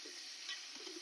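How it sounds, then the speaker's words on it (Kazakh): Onions are stirred in hot oil for a tomato lecho salad, giving a steady hissing sizzle with soft scraping under it, close and brief. "Пиязын салып араластырып қуырамыз."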